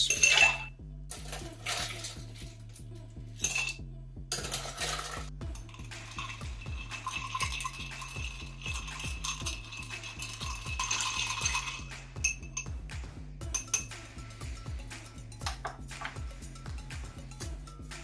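Ice cubes dropped into a cocktail mixing glass holding whiskey, bitters and orange bitters, then stirred, with bright close clinks and rattles in bursts followed by steady rhythmic clinking from stirring.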